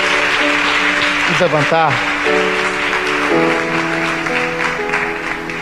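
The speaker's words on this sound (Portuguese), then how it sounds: "Dê um aplauso bem forte ao Senhor" A church congregation applauds steadily. The clapping is a broad wash under a preacher's voice and sustained keyboard music.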